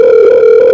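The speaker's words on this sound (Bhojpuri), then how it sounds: "ए भैया हां हमारा मोबाइल से फोन लगावा" A mobile phone dial tone sounds loud, steady and unbroken on a single pitch, alone with nothing else over it.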